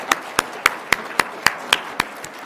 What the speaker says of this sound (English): we have to applaud for that